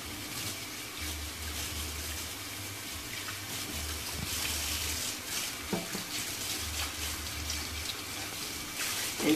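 Running tap water splashes steadily into a sink while fresh moringa leaves are rinsed underneath, with a continuous close gush and intermittent low rumbles as the flow shifts.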